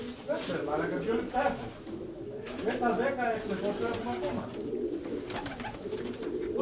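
Pigeons cooing in a loft, a steady chorus of overlapping throaty coos close by, with someone talking over them in places.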